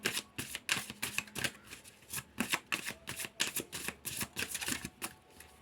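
Oracle cards being shuffled and drawn by hand, a run of quick, crisp riffling bursts in an uneven rhythm, close and fairly soft, with no talking.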